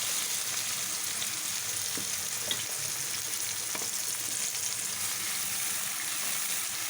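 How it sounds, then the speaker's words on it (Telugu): Sliced onions sizzle in hot oil with cinnamon, cloves and bay leaf, a steady close-up frying hiss with a few soft stirring clicks, no voices. "దోరగా వేయించుకోవాలి"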